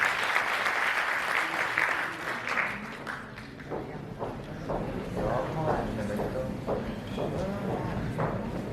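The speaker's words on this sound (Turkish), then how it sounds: "Burcu Demir Hanımız, alkışlarınızla sahnemize davet ediyoruz." Audience applause greets a guest invited onto the stage at an indoor cultural event in Bursa, a sustained clatter of clapping that swells and then continues steadily, with voices mixed into the crowd noise.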